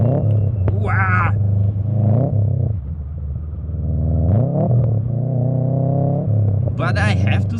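A car engine revs up and down repeatedly during rev-matched downshifts on a curving hill road, rising and falling in pitch at close range with a brief higher-pitched whine, and a person talking over it.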